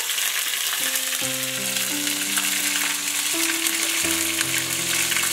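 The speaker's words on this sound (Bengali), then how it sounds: "ফোড়নের সুগন্ধ বেরোলে আমি দেব হচ্ছে ছোট চামচে 2 চামচে আদা বাটা" Ginger paste sizzles steadily in hot oil with tempering spices, a loud, continuous frying hiss that fills the whole stretch while a few sustained tones sound beneath it.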